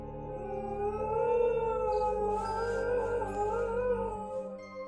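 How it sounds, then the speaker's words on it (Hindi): Several dogs howl together in a long, drawn-out, mournful chorus, wavering rising and falling tones overlapping against a low steady drone, used as an eerie effect for a haunted mansion horror story. "हवेली में कदम रखते ही कुत्तों की रोने की आवाज गूंजने लगी।"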